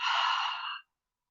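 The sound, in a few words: deep exhale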